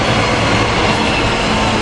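An Amtrak train with Viewliner rail cars rolls through Cornwells Heights station at rush hour, a loud, close and continuous rumbling roar that never lets up.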